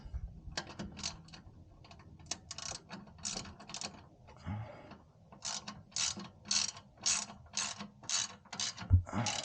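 A hand ratchet tightens intake parts during a 2021 Subaru WRX intake and J-pipe install, giving repeated quick clicking bursts separated by short pauses, close and fairly loud, with no talking.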